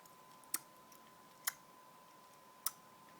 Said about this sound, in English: press your whole entire tongue against the roof of your mouth, then release it. So it'll make a sound like this.